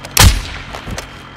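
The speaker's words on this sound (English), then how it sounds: "Taking effective fire!" Gunfire in a first-person shooter game: a loud, sharp shot up close, followed by fainter distant shots later, with no voices.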